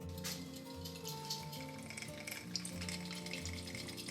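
Hot oil sizzling and crackling steadily in a tall container on a stove, ready for whole spices in a chicken biryani, with a continuous close frying hiss and faint background hum throughout.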